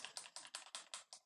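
Computer keys are pressed in a quick, steady run of about seven crisp clacks, each one distinct. The typing is close but quiet and has no voices over it.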